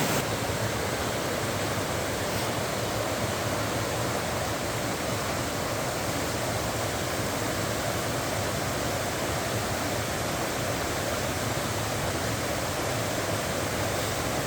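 A river in Talybont, Wales rushes steadily in wet weather, a dense, even roar of flowing water that stays at the same loud level throughout with no voices.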